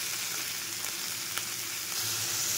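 Chopped tomato and green chilli fry in a pan for a shrimp bhuna, giving a soft, even sizzle with faint stirring, close but fairly quiet, and no talking.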